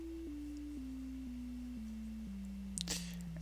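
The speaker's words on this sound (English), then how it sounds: "So here's our sine wave." A pure sine tone from a Subtractor synthesizer oscillator, steady and clean, stepping gradually downward in pitch in small even increments over about three seconds, with a brief clatter near the end.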